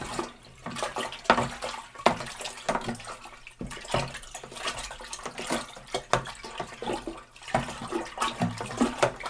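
A sanitized spoon stirring a strawberry rhubarb wine mixture, making repeated sloshing, swirling water sounds in steady strokes, close and fairly loud, with no voices.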